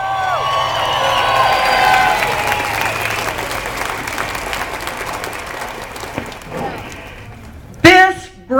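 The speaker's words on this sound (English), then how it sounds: "we need to give a big round of applause to the Broomfield 912 Project who set all this up today" A crowd at a Broomfield 912 Project rally in Colorado claps and cheers loudly, the applause slowly fading over several seconds before a voice starts speaking at the very end.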